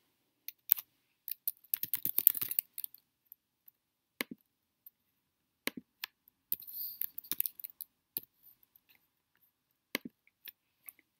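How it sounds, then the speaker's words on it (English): Computer keyboard typing while entering an Excel date formula, in scattered bursts of crisp clicks with pauses between them, close and fairly quiet, no voices. "type a close parenthesis and press enter"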